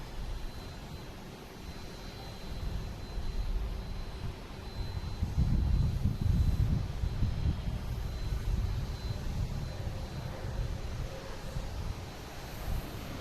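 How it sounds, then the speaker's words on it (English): A Delta A330-900 jet airliner arriving from Amsterdam lands at Boston Logan, its engine roar a broad, distant rush that swells in the middle and then eases off. "All right, we have Delta coming in from Amsterdam."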